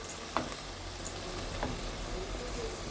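Fava beans sautéing in a pan, giving a steady low sizzle with a couple of brief stirring clicks, moderately near and fairly quiet.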